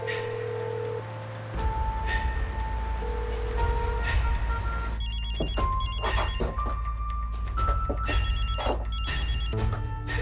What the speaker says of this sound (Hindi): सईद, फोन उठाओ मेरा, फोन